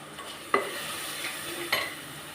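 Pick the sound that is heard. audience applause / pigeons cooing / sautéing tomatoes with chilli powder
sautéing tomatoes with chilli powder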